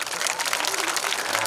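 A village crowd at a temple consecration ceremony in Dabhala applauds, dense continuous clapping filling the whole moment, close and steady.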